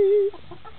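A chicken gives a short, bright call followed by a few soft low clucks, close by and alone.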